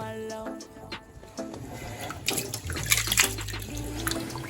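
Rice being washed by hand in a bowl of water, the grains squeezed to rinse out starch: wet swishing and splashing that builds in intensity, close by, with tonal background sounds underneath.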